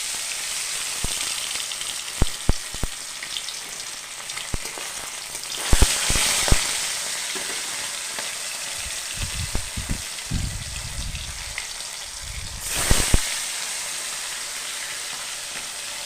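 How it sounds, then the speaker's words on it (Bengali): Phali fish frying in hot oil in a wok, a steady broad sizzle with sharp pops and spatters, louder bursts as pieces hit the oil and a low bubbling stretch midway. "কড়াইয়ে তেল কেটে গিয়েছে, এবার আমি এর মধ্যে মাছগুলো ছেড়ে দেবো।"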